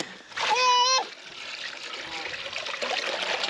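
River water heated over a campfire splashes as children bathe outdoors at a free camp in the Australian outback, with a loud splash followed by softer sloshing and trickling while children's voices chatter.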